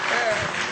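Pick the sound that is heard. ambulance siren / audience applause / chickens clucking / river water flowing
audience applause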